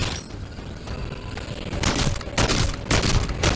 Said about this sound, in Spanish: Seguimos disparando en la cabeza.